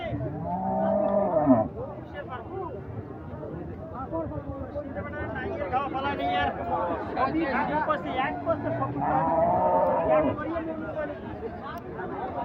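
Cattle at a livestock market where large bulls are being sold, several loud, drawn-out moos near and mid-distance, set against crowd chatter and people talking.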